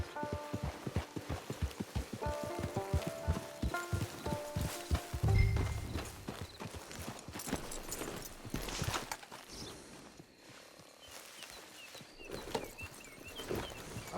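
A horse walks in the Western open-world game Red Dead Online, its hooves clopping in a steady, close rhythm with light ambient outdoor sound behind, a brief low thud midway and no talk.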